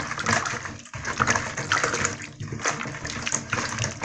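Water splashes and sloshes while fruits and vegetables are washed in a bowl of poured water, with an uneven churning and swirling up close.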